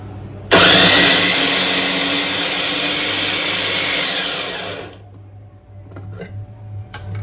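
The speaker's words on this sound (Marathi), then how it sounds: "आता ह्याच्यात मी टॅमॅटो टाकले बारीक करायला." An electric mixer grinder blends tomatoes with a loud, steady whirring roar that starts abruptly and runs for about four seconds, then cuts off, leaving a low hum and a few faint clicks.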